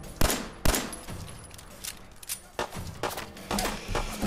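Sharp, scattered gunshots crack through a Fallout 4 firefight in Concord, several loud single shots and short bursts spaced irregularly over rumbling background noise.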